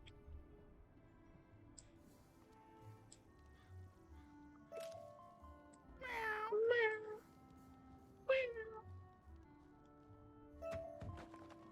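Cartoon cat meowing in the online game Wizard101, a few short meows standing out over a quiet game soundtrack with soft ticking effects and no talk.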